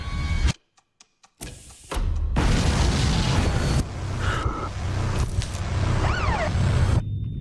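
A loud explosion erupts after a few sharp clicks, followed by a sustained roaring rumble and debris noise, with a faint whistling tone near the end.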